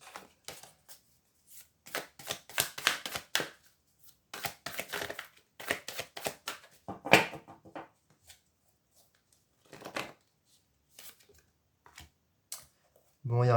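Tarot cards drawn and shuffled by hand at a table, soft papery slaps and flicks in scattered bursts, close and quiet, with someone talking between them.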